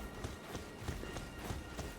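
Hooves of a horse ridden in Elden Ring strike in a steady, even clip-clop rhythm, faint and low beneath the game's ambience, with no talk over them.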